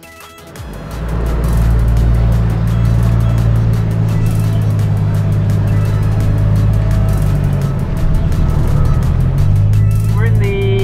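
A Toyota Supra drift car drives with a loud, continuous engine drone heard from inside the cabin, holding steady for most of the stretch, with a brief rising whine near the end.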